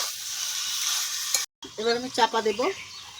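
Duck meat fries and sizzles in a pan while being stirred, a steady close hiss that cuts out briefly, then returns with a run of short tonal, voice-like notes over the frying.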